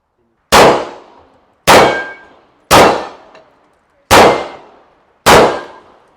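Five loud, sharp gunshots at marksmanship practice, spaced about a second apart, each a hard crack with a ringing tail that fades before the next shot.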